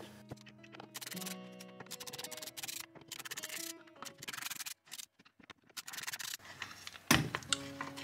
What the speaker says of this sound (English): I'm going to just pull those 6 bolts out, and then this cover should come right off.